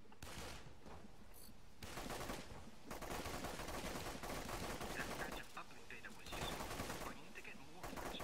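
Rapid gunfire from the video game The Cycle, dense bursts of shots that run nearly nonstop at a fairly distant level, mixed with game ambience.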